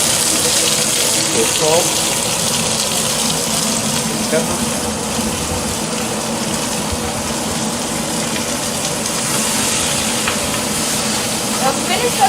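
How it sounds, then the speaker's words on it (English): Spinach crackles and sizzles in a hot pan with browned garlic, a continuous hiss of frying under a person speaking briefly. "and then add the spinach. And that's the sound you want to hear. A little crackle."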